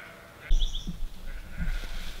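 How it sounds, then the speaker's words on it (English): Sheep being fed on a country farm bleat at a moderate distance, several separate bleats over a low outdoor background. "the farmer's getting their sheep fed by the sound of it"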